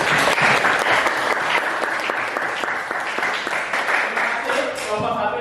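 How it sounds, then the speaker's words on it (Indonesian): Classroom applause for a student group's presentation, a dense steady patter of many hands clapping throughout, fairly loud and close, with a few voices near the end. "kita beri tepuk tangan"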